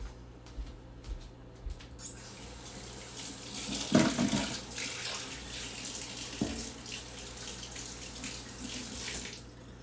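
Tap water runs steadily into a sink while wax is rinsed from hands, a soft continuous splash with a brief louder gush near the middle and another later, no talking.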